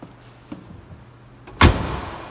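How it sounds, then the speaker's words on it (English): A single solid thump of a 1970 Chevrolet Camaro RS two-door hardtop's door shutting, loud and close, after a few faint clicks and a quiet pause. "Doors on the car closed nice and tight"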